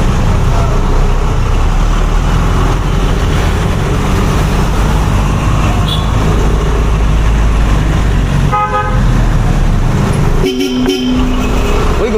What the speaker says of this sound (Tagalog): Gumagana pa ang busina.